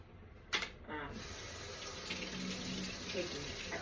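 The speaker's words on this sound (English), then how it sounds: "I'm gonna rinse this bottle real quick before I use it, even though it's clean." A tap runs steadily into a sink while a milk bottle is rinsed under it, starting with a clunk of the handle, then a continuous close gush of water with slight sloshing as the bottle fills.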